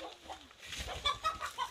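Chickens cluck faintly in short, uneven bursts, with soft murmurs of fowl nearby at low volume.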